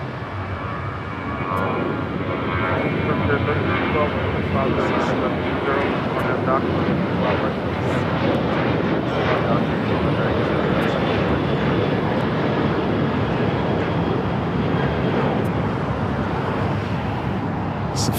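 A United Airlines Boeing 737-900ER takes off from LAX on a Christmas morning, a loud, steady jet engine roar holding at close range for the whole span, with wind buffeting the microphone.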